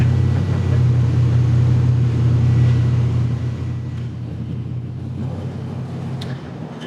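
A 450 horsepower small block Chevy on a dyno holds a loud, steady, deep rumbling drone near its rev limiter, then eases slightly lower and continues, with no talk over it.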